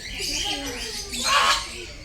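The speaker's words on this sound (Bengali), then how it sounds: "বিভিন্ন রকমের টিয়া পাখি আছে এখানে" Several parrots in an aviary at Alipur Zoo in Kolkata give a brief burst of harsh squawks and chirps, nearby and fairly loud over crowd murmur and a voice.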